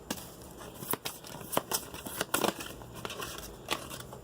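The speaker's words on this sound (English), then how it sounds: "I'm just going to shuffle from this deck." A deck of oracle or tarot cards is shuffled by hand, giving soft papery riffles and brisk flicks in quick irregular bursts close by, with no speech.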